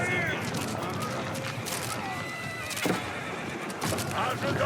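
Horses neighing and whinnying in the Age of Empires IV battle, a few high wavering calls over busy combat noise and clip-clop hooves, with commentary running underneath.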